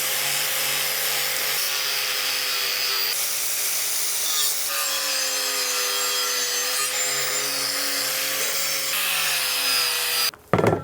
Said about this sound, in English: I'm using up the leftover pads from Nina's sanding to be able to get in here